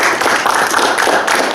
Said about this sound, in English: Let's give our speaker a round of applause.